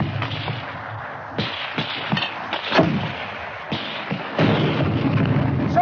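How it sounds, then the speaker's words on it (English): Mortar rounds firing and bursting on a field range, heard as a series of sharp booms and thuds at irregular intervals, some close and loud, others more distant with rumbling tails, with no talk over them. "Hurry up with that mortar!"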